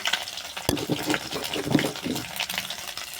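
Chili and garlic paste hits hot tempering oil, giving a sharp crackling sizzle followed by stirring and bubbling in the pan, close and moderately loud, with no one speaking.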